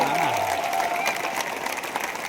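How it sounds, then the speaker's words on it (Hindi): Audience applause at a company direct-selling event in a large hall at Mahatma Mandir, Gandhinagar, a steady dense wash of clapping throughout, with a brief tonal voice or music element in the opening moments. "ऐसे अपने कंपनी के royal diamonds CN Patel sir और हरीश शेट्टी जी के लिए जोरदार तालियां"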